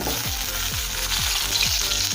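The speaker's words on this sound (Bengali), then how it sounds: "এখন এই তেলের মধ্যে দেবো কেটে রাখা বেগুন" Steady, dense sizzling of pieces frying in hot oil, with a low rhythmic scraping pulse repeating about every half second as they're stirred.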